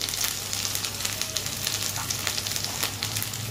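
Spices, turmeric and red chilli powder, sizzle steadily in hot oil in a pan while a fish masala is cooked, a close, even frying hiss.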